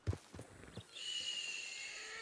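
A horse in a ranch roleplay video game snorts and neighs in a few short bursts, followed by a steady hissing background sound, with no talking.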